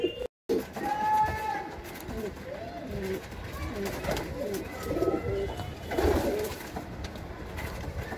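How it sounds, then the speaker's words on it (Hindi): A sick, underweight female pigeon cooing inside a loft, repeated soft throaty coos at close range, with a person talking over parts of it and brief handling noise. "ये है भाई कबूतरी,"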